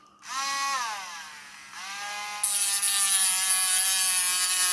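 A power tool cutting a wooden piece for a sword prop, its whine rising and falling in pitch as it bites, then settling into a loud, steady high grind, close and with no talking.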